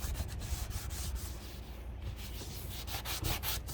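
A cloth or pad rubs sticky glue residue off an oak cabinet with close, repeated back-and-forth scrubbing strokes in a steady rhythm. The rasping is continuous and sounds much like sanding.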